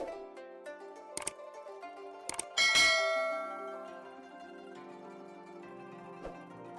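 A notification bell chime rings as a sound effect: a few quick bright dings, then a louder ringing strike that decays slowly into a sustained tone, quiet overall.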